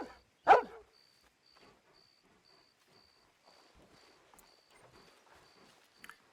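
In the video game Red Dead Redemption 2, a dog gives one sharp bark near the start, followed by a quiet outdoor game ambience with a faint, regularly repeating high beep and soft rustling.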